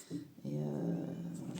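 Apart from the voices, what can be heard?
domestic cat vocalizing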